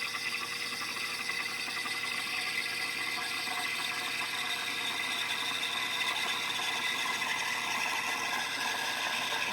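A De'Longhi BCO430 combination espresso and coffee machine steams milk with a steady, loud hiss and whir. The sound is continuous and unbroken, close by, with no talking.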